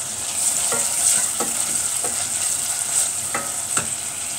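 Onions and raisins fry in a pot with a steady bright sizzle, while a utensil scrapes and stirs in several short strokes, close and clear.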